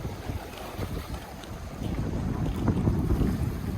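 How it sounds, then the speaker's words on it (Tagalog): Strong wind at a seashore in Taiwan buffets the microphone with a low roar while rough waves surge and crash nearby, growing louder toward the end. "Malakas yung hangin ngayon, kaya maalon."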